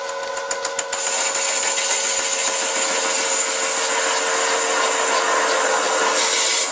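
A metalworking machine takes a light cut at 400 RPM, giving a steady, loud grinding-whine with sustained tonal ringing that runs almost unbroken after a brief burst of rapid ticks at the start.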